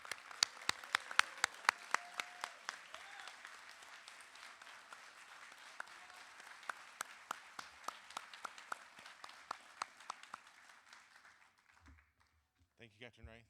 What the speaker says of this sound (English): So big round of applause again for our shipmate,